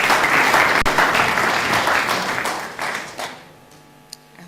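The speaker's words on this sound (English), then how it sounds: "Big round of applause, please." Audience applause at a national sports awards ceremony in Namibia, a dense, loud crowd clapping that fades out toward the end, leaving a few stray claps.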